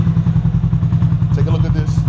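A Loncin CR5-Pro 250cc motorcycle engine idles with a steady low, throbbing pulse, close and loud, with a few brief faint clatters near the end.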